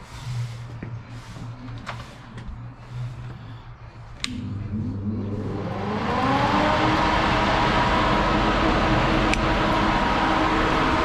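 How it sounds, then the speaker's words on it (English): A rolling road dyno powers up, a quiet hum building into a loud, steady broadband roar of spinning rollers and fans that holds to the end. "let me power up the dyno first"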